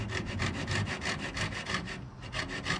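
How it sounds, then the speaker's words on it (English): A hand coping saw back-cuts MDF baseboard in quick, rhythmic push-pull strokes, close and fairly loud, with a brief pause near the end. "And the key with the coping saw, obviously MDF is really easy."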